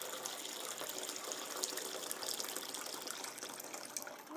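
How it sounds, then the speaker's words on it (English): Hot water pours steadily into a loaf pan for a few seconds, a close, continuous splashing gush at modest volume with no speech. "I can go ahead and pour my water into the pan."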